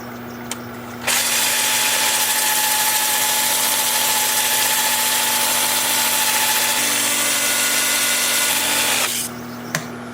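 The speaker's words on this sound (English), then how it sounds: "I'm starting in reverse at 350 RPM" A steady, loud whirring hum of a wood lathe spinning in reverse at 350 RPM with abrasive rubbing from sanding a bowl, running continuously for several seconds before switching off.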